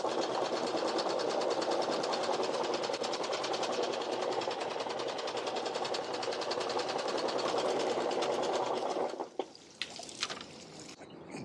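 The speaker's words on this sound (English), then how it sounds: "turning on the anchor lifter. I never know what to call this thing. The remote windlass." An electric remote anchor windlass on a sailboat whirs in a loud, steady motor drone for about nine seconds, then cuts off abruptly, leaving a few faint clicks and knocks.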